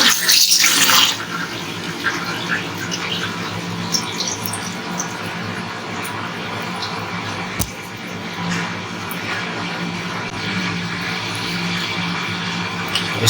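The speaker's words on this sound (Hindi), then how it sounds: "अब इसको हम फोल्ड करके इसको हम थोड़ा सा धोएंगे पानी से" Fresh paneer, made with lemon and folded in cloth, is rinsed under running water: a steady splashing stream after a louder gush at the start, continuing evenly throughout.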